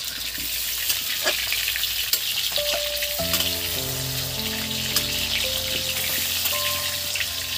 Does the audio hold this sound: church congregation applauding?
no